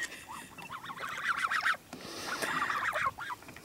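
Imprinted geese honk close by in a lakeside setting, two bursts of rapid, repeated nasal calls, moderately loud over quiet background.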